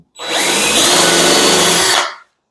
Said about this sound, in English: So I'm going to drill it just a little bit deeper.